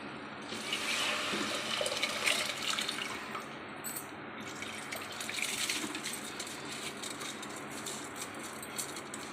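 Soaked rice and its soaking water pour into a cooking pot for tomato rice, a steady splashing, gurgling stream running for several seconds at moderate closeness.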